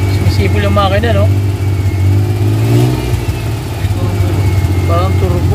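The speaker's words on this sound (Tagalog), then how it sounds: "Sumisipol yung makina, no?" A Suzuki F6A engine idles with a steady low drone and a faint high whine running through it. Voices talk over the engine the whole time.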